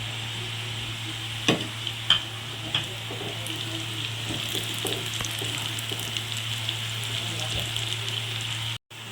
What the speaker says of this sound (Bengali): আলু আর পেঁয়াজ ভালো করে লাল লাল করে ভাজা হয়ে গেছে